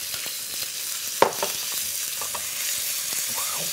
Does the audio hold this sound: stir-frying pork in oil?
yes